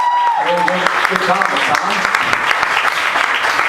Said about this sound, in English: How about a round of applause for the comedians you saw before me?